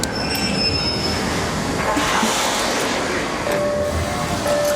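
A train in the video game ARC Raiders rumbles and clatters along with squealing wheels and metallic screeches, a loud continuous rolling noise heard from inside the carriage.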